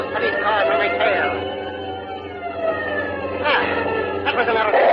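Police car sirens in a vintage radio drama car chase, rising and falling wails sweeping repeatedly over a dense engine-like rumble.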